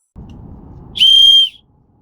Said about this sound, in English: Another one of my favorites from this kit is this whistle. Very handy if you're lost. I'll show you what it sounds like now.